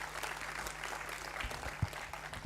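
Audience applause at a formal annual day ceremony in an auditorium, honoring a guest speaker; steady, dense clapping held at moderate level throughout, with a few sharper claps standing out near the end.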